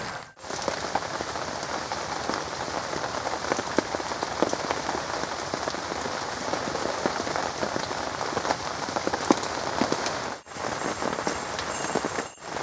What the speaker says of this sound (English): The storm has just passed the Pulau Besar, Malacca, and it's a continuous rain at this point of time